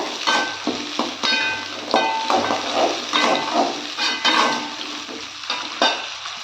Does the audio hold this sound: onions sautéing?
yes